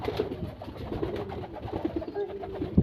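Show king pigeons cooing nearby, a steady run of low, throaty coos repeating through the clip with soft fluttering and a sharp knock near the end; no talking.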